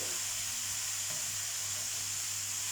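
A continuous bright sizzle of water spinach stir-frying in a hot wok, close and steady, with faint stirring scrapes and a low background hum.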